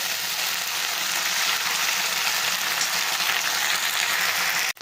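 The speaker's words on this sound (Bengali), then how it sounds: "মশলাটা অনেকটাই ভাজা হয়ে গেছে" Spice masala frying in a pan for a poi saag curry, a loud, dense, steady sizzle that holds evenly and cuts off sharply at the end.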